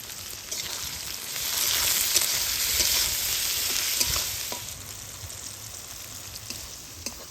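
Chopped onion and tomato sizzling in hot oil in a pan with salt, a steady loud hiss and crackle, close up, swelling briefly as the pan is stirred, with no voices.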